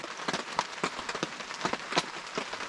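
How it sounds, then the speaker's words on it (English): Heavy rain pounds down steadily at an outdoor campsite, with scattered louder drops spattering nearby on a hard surface. "it's pouring down rain, so I would quickly get soaked"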